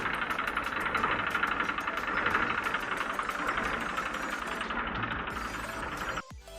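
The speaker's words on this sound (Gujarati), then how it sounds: "ચાલુ કન્ડિશનમાં ટ્રેક્ટર છે।" An Eicher 368 tractor with a 42 HP engine runs close by with a steady knocking diesel clatter for about six seconds, then cuts off abruptly, and no one speaks.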